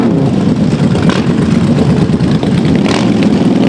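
Around a hundred motorcycles at a biker rally in Chernivtsi, escorted by cars, set off together through the city streets, producing a loud, continuous rumble of many engines revving and idling close by.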